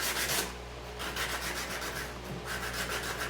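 Hand sanding with 120-grit paper along the edge of a custom guitar control cover plate, close and steady back-and-forth rubbing strokes with no voices.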